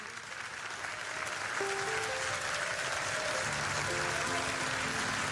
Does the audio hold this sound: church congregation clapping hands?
yes